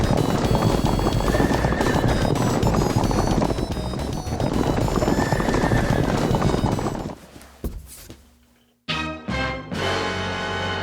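Horses gallop with rapid hoofbeats and a whinny from a 1970s Purina Chuck Wagon dog food commercial with a horse-drawn wagon, loud and dense over music-like sound, then breaking off into a brief near-silence before resuming.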